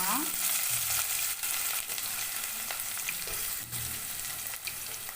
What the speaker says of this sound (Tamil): வெங்காயத்தை சேர்த்து நல்லா வதக்கிக்கோங்க